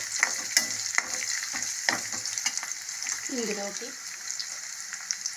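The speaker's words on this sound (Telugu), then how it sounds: "గ్రీన్ చిల్లీ, ఎండుమిర్చి కొంచెం లైట్గా వేగిన తర్వాత" Green chillies, dried red chillies and curry leaves sizzle and crackle in hot oil in a pan while making uggani, with a steady hiss, scattered pops and stirring scrapes under a brief spoken word.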